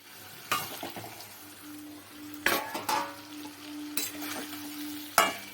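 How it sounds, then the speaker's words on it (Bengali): Half-fried potatoes are stirred into a sizzling spice masala in a pan. A constant crackle is punctuated by several loud scraping strokes of the spatula at irregular intervals, and a faint tonal hum runs underneath. "মশলার সাথে আবার ওগুলো আলুগুলো মিশিয়ে দিয়ে বেশ খানিকক্ষণ ভাজা ভাজা করব"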